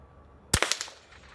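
A single loud, close rifle gunshot cracks out at an outdoor ranch range, followed by a few quick metallic clacks that fade into quiet.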